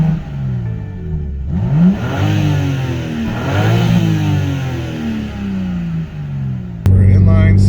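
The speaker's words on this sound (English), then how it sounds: "For an inline six, twin turbo, man, it sounds great." A BMW M4 Competition's inline-six twin-turbo engine revs up and down repeatedly, its loud, close exhaust note sweeping through rising and falling pitch before a sharper, louder blip at the end.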